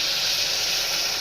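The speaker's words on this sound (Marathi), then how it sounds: "1 ग्लास गरम पाणी" Hot water poured from a glass into a pressure cooker holding a soybean curry with peanut powder, salt and coriander gives a steady, close, rushing hiss for just over a second, with no talking.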